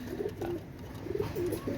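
Pakistani pigeons in a loft give soft, low cooing calls, a few short rolling coos with brief pauses between them, faint and fairly close with no talking.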